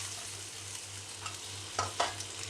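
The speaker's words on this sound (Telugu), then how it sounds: "ఇప్పుడు దొండకాయలు ఫ్రై చేసుకుందాం" Chopped ivy gourd frying in oil, a soft steady sizzle over a low continuous hum, with two louder stirring scrapes near the end, no speech.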